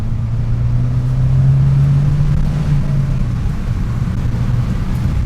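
Abarth 595 Competizione engine pulling hard through a kicked-down gear, a loud steady low drone that climbs slightly then eases, close and continuous over road rumble with no talk.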